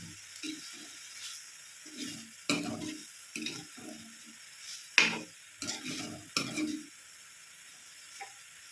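Breadfruit thoran being stirred in a pan with curry leaves and crushed coconut, giving soft intermittent scraping and stirring strokes with a faint sizzle between them.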